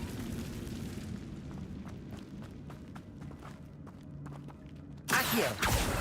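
The Incendio fire spell in the Hogwarts Legacy video game ends in a sudden loud fiery blast after several seconds of faint rumbling and light ticking steps.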